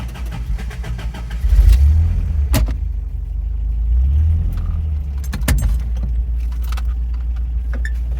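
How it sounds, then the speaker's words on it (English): A Toyota 22RE truck engine cranks with sharp clicks and a low rumbling turnover, catching and settling into a steady close idle with brief clanks along the way. "this is how we crank the truck sometimes."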